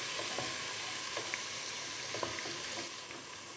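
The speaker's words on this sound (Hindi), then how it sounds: "लहसुन को थोड़ा सा मैं कर लूँगी सौते" Garlic sautéing in a pan gives a steady, soft sizzle with faint scattered crackles and light stirring taps, close up and without talk.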